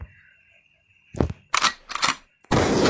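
An M1014 EVO shotgun fires in a video game with about four sharp, loud blasts in quick succession over a second and a half, each followed by a brief decay.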